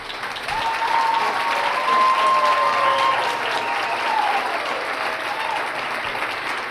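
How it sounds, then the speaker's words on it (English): Big applause at a US-Africa nuclear energy summit in Kenya, a large crowd clapping in a dense, sustained wash with a faint thin tone running through the middle. "I want your biggest round of applause."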